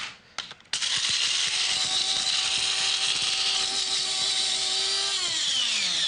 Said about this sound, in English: So we're going to break our oranges in a spice grinder.